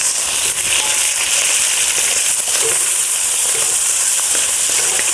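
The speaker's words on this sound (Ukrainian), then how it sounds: "Піджарив м'ясо, додав цибульку, перемішую." Meat ribs fry with onion in a pan outdoors at a summer cottage, producing a loud, dense, unbroken sizzle with faint stirring scrapes underneath and no clear voices.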